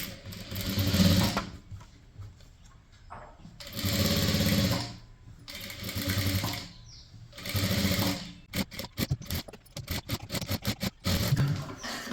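A sewing machine stitches chudithar fabric in loud, rapid runs that start and stop, with short pauses between bursts and someone talking in the gaps.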